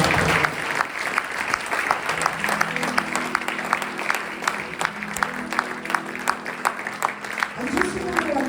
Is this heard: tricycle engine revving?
no